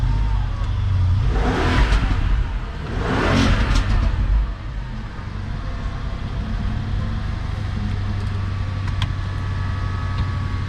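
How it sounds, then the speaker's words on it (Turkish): A used luxury car's engine revs up twice in quick surges, then settles into a steady idle hum close by. "Motorun sesini duyuyorsunuzdur"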